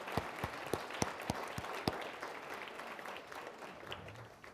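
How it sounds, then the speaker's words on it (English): An audience applauds Paul and his staff at a financial group's client economic outlook event, with crisp, separate claps standing out at first, then thinning into a softer, quieter patter that fades toward the end. "Let's give them a big round of applause."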